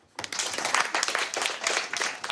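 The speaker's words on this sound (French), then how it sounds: "OK, on l'applaudit." A school class applauds a student at an eloquence contest, a short burst of scattered clapping starting abruptly and continuing unevenly, moderately quiet with no talk over it.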